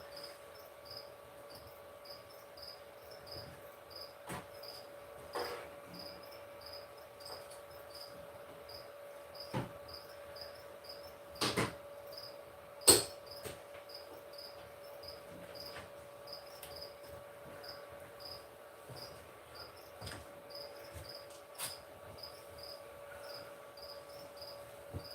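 Crickets chirp in a steady, rapid pulsing pattern throughout, fairly faint, with a few soft knocks and clicks in the background.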